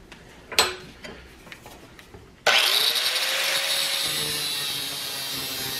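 A hand saw cutting through the other side of a homemade forge tool for bending square stock, a few scattered taps first, then steady continuous sawing strokes close by, fairly loud and unbroken.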